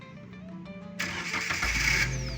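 An ambulance engine cranks and catches about a second in, then settles into a steady, close low rumble with a broadband hiss on top; no one speaks.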